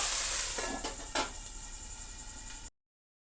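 Water poured into a pan of potatoes frying for aloo dum sets off a loud hissing sizzle that slowly fades, broken by a few scraping stirs before the sound cuts off abruptly.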